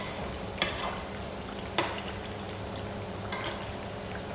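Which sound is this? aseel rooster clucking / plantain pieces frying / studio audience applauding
plantain pieces frying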